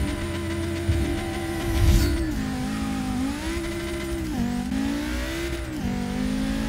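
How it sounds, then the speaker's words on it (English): Audi RS3 hatchback engine accelerating on a race track, a loud droning note that rises and falls through gear changes, with a brief squeal of tires early on. "The sound of this engine is 10 times better than the Volkswagen."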